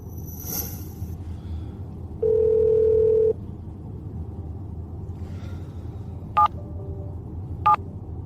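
Telephone tones on an unanswered call: a ringing chirp, then a sustained steady tone for about a second, followed by two short electronic beeps, clear and close over a quiet hum, with no voices.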